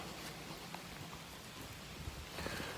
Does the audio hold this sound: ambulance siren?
no